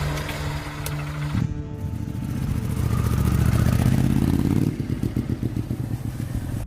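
A motorcycle used as a village bike ambulance rides off, its engine revving up loud and close before the note drops and settles into a steady throb as it pulls away.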